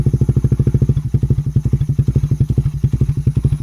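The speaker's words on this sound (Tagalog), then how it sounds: "Pakinggan nyo yung makina, magbabago yan." Motorcycle engine fitted with a Powerpipe exhaust idling with a steady, rapid, loud rumbling pulse close by, uninterrupted for several seconds.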